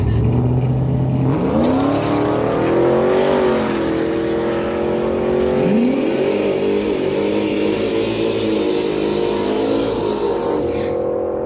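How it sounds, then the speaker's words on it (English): A 1987 Mazda RX-7 and a 2001 Pontiac Trans Am launch in a drag race final at a dragstrip, engines revving up hard through rising gear pulls, loud and sustained, then fading as the cars pull away. "Jeff Mattice bringing it in the 87 Mazda RX-7 on the left side of the track"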